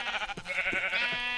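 Sheep bleating in the Minecraft video game, a few wavering, nasal bleats in quick succession that sit close and clear over a soft low background.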